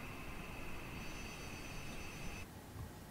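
HondaJet engines in Microsoft Flight Simulator 2020 wind down after shutdown, a steady broadband roar carrying a high whine that cuts off near the end while the low rumble continues.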